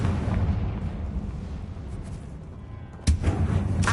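A Confringo fire spell explodes in Hogwarts Legacy, a loud dense booming blast with rumbling crackle that carries on and flares again sharply near the end.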